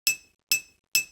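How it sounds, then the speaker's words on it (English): Three evenly spaced, bright glass clinks, each a sharp ringing strike decaying quickly, as a clean close-up sound sample with no talk. "So if we take this glass clink sound"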